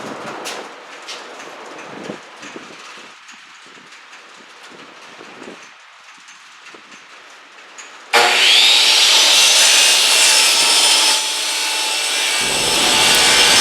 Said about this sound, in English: get over here to the trim for the top and get this sanded